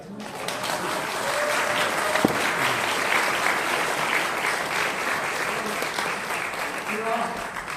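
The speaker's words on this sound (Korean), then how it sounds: "박수 한번 주세요." An audience at a Korean gathering of speeches and thanks breaks into sustained, dense applause, loud and even for several seconds with faint voices mixed in.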